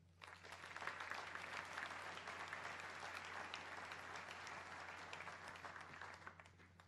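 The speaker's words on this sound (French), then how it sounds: "sous vos applaudissements" Audience applause at a New Year's greetings ceremony of a chamber of commerce, a steady dense clapping from a sizeable crowd that starts quickly and holds evenly throughout, with a low steady hum underneath.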